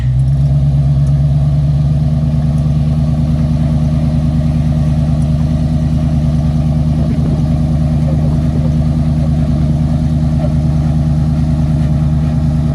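An off-road vehicle's engine drones loud and steady at low revs as it crawls slowly over obstacles on the test tires, a continuous close rumble with no talking.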